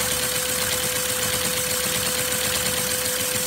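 An oscillating flat-four LEGO vacuum engine runs steadily: a loud, continuous mechanical whir with a fast, even chatter and a constant pitched hum, with no voice.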